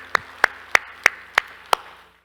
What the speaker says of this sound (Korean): 우리 하나님께 영광의 박수 합시다